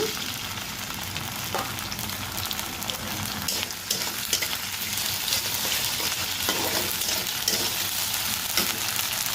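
Continuous sizzle of ginger-garlic paste frying with onions in a pan, with intermittent stirring clatter and scraping; no speech, steady and fairly close.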